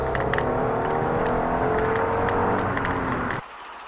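A Fiat 500 TwinAir turbo, 105 horsepower in lounge spec, pulls away in first gear with a steady snorty engine note that holds, then cuts off abruptly near the end.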